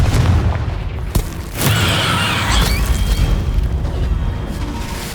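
A Confringo blasting spell in Hogwarts Legacy bursts into a loud, booming explosion with a crashing impact, trailed by rumbling debris and a lingering low roar.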